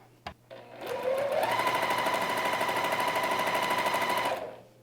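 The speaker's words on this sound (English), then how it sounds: "I'll put that final piece on and sew that through." Sewing machine stitching quilt block pieces together, a close, loud, steady rapid mechanical whir that starts after a brief click, runs for about three seconds, then stops.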